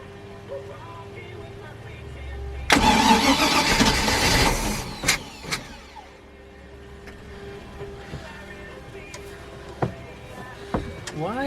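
Bayliner 2455 boat motor cranking and catching, a loud burst of engine roar for about two seconds that drops to a quieter running rumble, with clicks and clanks around it.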